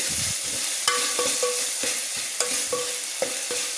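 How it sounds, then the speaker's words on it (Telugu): Country chicken masala cooking with tomatoes and ginger in a pan, a steady hiss of frying under repeated sharp scrapes and clinks of a spoon stirring against the metal, close and fairly loud, no voices. "ఇప్పుడు ఈ టమాటాలతో పాటు ఇది కూడా పచ్చి వాసన పోయి బాగా మగ్గిద్దాము"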